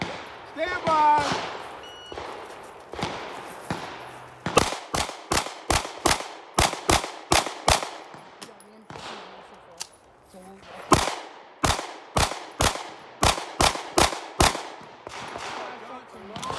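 Rapid gunfire on a USPSA practical shooting stage at an outdoor gun club: two strings of sharp, loud shots in quick bursts, each followed by a brief pause, with range commands spoken at the start.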